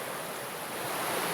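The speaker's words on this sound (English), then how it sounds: "here's our Big Cedar Creek tumbling its way down" Big Cedar Creek tumbling downstream toward the Clinch River, a brief, steady rushing hiss of moving water with no talk.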